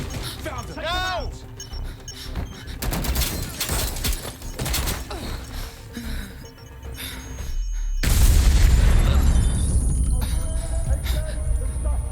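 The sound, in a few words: explosions in Watch Dogs Legion video game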